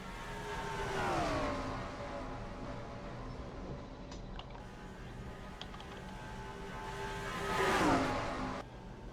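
Stock cars in a NASCAR racing video game lap Darlington Raceway during the Southern 500, engines whining as two cars sweep past with pitch-falling pass-bys, quiet and distant, between them a steady low engine drone.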